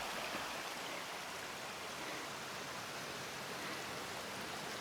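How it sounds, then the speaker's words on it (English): A creek flows steadily beneath a small footbridge in the woods along the Appalachian Trail, a constant close broadband rush of water with no voices. "I get to a little bridge crossing over this beautiful creek."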